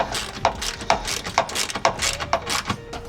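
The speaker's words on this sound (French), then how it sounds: "on va pouvoir venir se munir de deux clés pour venir serrer toutes nos vis" Torx T40 and 13 mm wrenches tighten the step bolts on a Mercedes Sprinter, giving a rhythmic series of close, metallic ratcheting clicks about every half second, with no talking.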